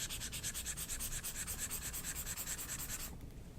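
A Remarkable stylus writing on an e-ink tablet screen, a close, steady scratchy rubbing with quick repeated strokes that continues for several seconds and then eases off at the end.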